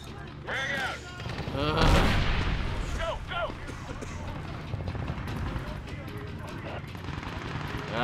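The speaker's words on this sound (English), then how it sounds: "Moody, toss a frag in there." Gunfire and a frag grenade blast in Medal of Honor (2010), sharp shots and a heavy burst amid combat, with soldiers shouting over the noise.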